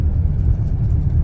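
A car eases gently away from a stop on slick snowy road, giving a steady low engine rumble that stays close and even throughout, with no voices.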